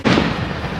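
Fireworks bursting at a crowded Guy Fawkes bonfire night display in England, 2022: one loud boom opens, followed by a rumbling, crackling tail that stays strong to the end.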